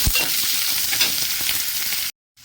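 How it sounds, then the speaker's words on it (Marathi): Chopped onion fries in hot oil with bay leaf and a little garam masala, the start of a pea rice dish. A steady, close sizzle with faint stirring runs for about two seconds before stopping abruptly. "कांदा, तेजपत्ता आणि थोडंसं गरम मसाला टाकून मी हे चांगलं भाजून घेते कांदा"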